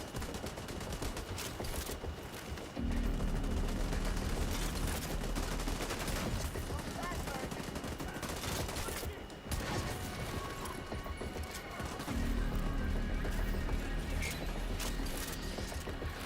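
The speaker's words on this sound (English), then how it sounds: "The pistol is your ultimate." A pistol fires in The Division 2 in repeated sharp cracks and short bursts over a busy mechanical game soundscape, with clanks and impacts around the shots.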